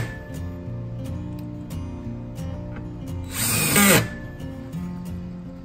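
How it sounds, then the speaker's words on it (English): A power drill drives screws into a metal pole on a leaning fence, giving one loud, short burst of whirring near the end over a steady outdoor background hum. "You need to put back all the screws so you can secure the metal fence pole"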